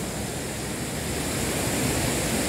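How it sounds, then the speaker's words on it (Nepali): Large floodwater pours over a dam at the Khardu drinking water project, a steady, loud, broadband rushing roar that holds evenly throughout with no voices. "निकै ठुलो बाढी र पात नागिरहेको अवस्था छ"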